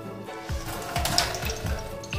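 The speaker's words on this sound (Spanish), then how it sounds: "Vamos a llenar de agua este recipiente plástico, que es una botella, hasta más o menos la mitad de agua." Water poured into a plastic bottle until it is about half full, a continuous splashing and gurgling pour with no one speaking.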